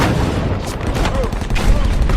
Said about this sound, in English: mortars and rocket fire start coming down on us